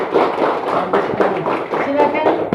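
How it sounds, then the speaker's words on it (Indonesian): Classroom audience clapping for a group's representative, a short burst of scattered, uneven hand claps at close range with some voices mixed in. "Tepuk tangan dulu buat perwakilan kelompok 3."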